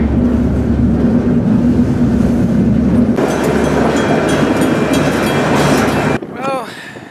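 A freight train rolls on rails near Salina, Kansas, heard from on board as a loud, steady rumble and rattle that shifts in character partway through, then drops away into quieter squeals near the end.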